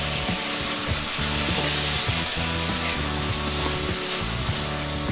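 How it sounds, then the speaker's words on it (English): White wine sizzling in a hot pan while pan-searing orange roughy, a dense, even frying hiss with a low rattling hum underneath, close and unbroken. "I might add a little bit of white wine."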